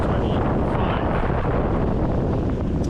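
Strong wind, around 22 knots, buffets a sailboat running downwind at sea off the coast of Colombia under a butterfly sail setup, a loud, continuous roaring rush with no pauses.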